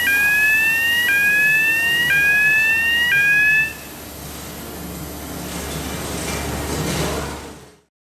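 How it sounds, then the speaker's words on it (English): A BA20E mobile breathing air compressor sounds its alarm after the red emergency stop is pressed: a loud, rapidly repeating electronic beep tone lasts about four seconds, then a broad hiss of venting air follows and fades out. "Press the red emergency stop button. The alarm will then sound."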